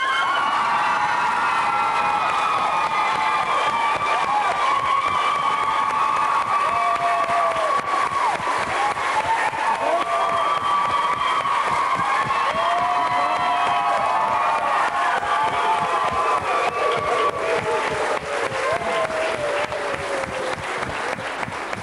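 A school audience applauds and cheers for a group of girls who have done makeup, with loud, sustained clapping, whoops and excited children's shouts filling the hall steadily for about twenty seconds.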